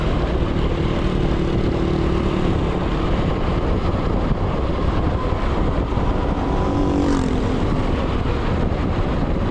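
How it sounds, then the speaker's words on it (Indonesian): A Yamaha Xtrada 7 motorcycle speeds along a road toward a hidden waterfall in Cianjur, with a loud continuous engine roar buried under heavy wind rush that stays constant throughout, close to the rider. "Apakah motor disalip sama Papian?"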